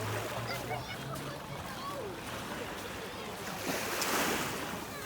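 Surf washes along Albissola beach in Liguria, Italy, a faint, steady hiss of waves with light wind noise, rising briefly near the end. Voices murmur in the background.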